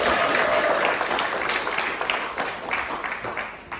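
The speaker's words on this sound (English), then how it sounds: "Can we give Carissa a round of applause for stepping up?" An audience at a health inequalities network gathering claps for a volunteer, a broad sustained round of applause that tapers slightly toward the end.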